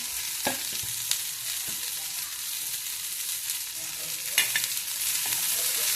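Crushed ginger, garlic and green chili sauté in a pan with a steady, moderately loud sizzle and occasional stirring scrapes, close up with no voices.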